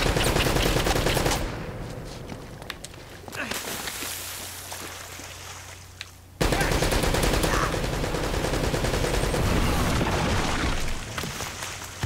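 Dense, sustained rapid gunfire and booming blasts fill the soundscape in the action video game Uncharted: Drake's Fortune, loud throughout with a brief quieter stretch midway before the barrage resumes.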